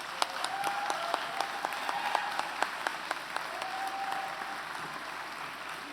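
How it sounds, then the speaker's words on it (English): A convocation crowd of graduates, family and faculty in Kingston claps at fairly low level, a soft continuous patter with a few sharper individual claps standing out, plus occasional faint whistles or cheers. "Let's give a round of applause to everyone here, family, friends, and faculty who helped us become graduates."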